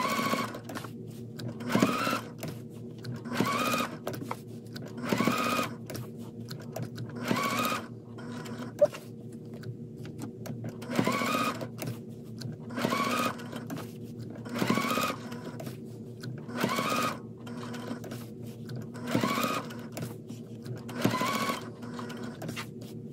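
A sewing machine stitches quilt pieces in repeated short bursts of rapid mechanical whirring, separated by brief pauses, close and clear with no talking over it.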